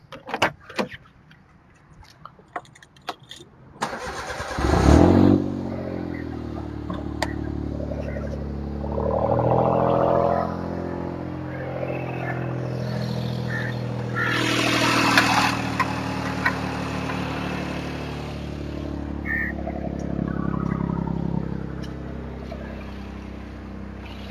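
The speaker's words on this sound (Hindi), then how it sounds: "ऑडियंस को टर्बो की आवाज सुननी होगी, गाड़ी स्टार्ट होके देखनी होगी" A Suzuki Mehran fitted with a turbo engine cranks and fires up near the listener, then settles into a steady idle with a couple of swelling revs and a rough, droning exhaust tone.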